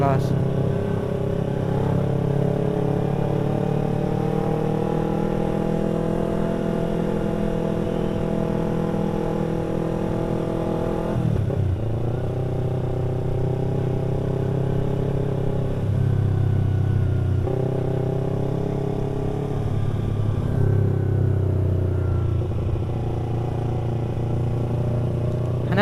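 Motorcycle engines idle and rev nearby at a Sunday morning ride gathering in Geurutee, Aceh Jaya, pitch rising and falling over a steady mechanical drone, with people talking over the noise.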